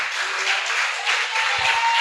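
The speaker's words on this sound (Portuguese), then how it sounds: "Aplauda a palavra do Senhor e receba paciência na sua alma." Sustained applause from a church congregation during a sermon, a broad, even crowd clapping at steady volume throughout, with a faint low thump near the end.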